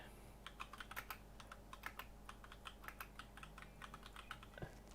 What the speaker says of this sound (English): Can you guys hear the keyboard?